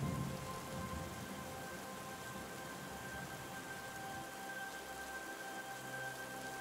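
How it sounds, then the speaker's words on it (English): Steady rain falls on a surface as a constant, even hiss of drops, with a faint low rumble at the start and no voices. "or raindrops tapping against a nearby window."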